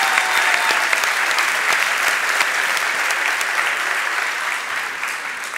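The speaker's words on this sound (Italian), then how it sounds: "No, dai, un applauso a te" Dense, loud applause from a live podcast audience fills the whole stretch steadily, a thick wash of many hands clapping together with no talk on top.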